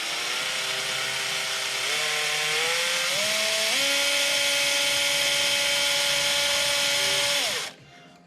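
A drill or drill-driver slowly bores out a broken screw stuck in its threads, a steady, loud motor whine that shifts pitch upward in steps before winding down and stopping.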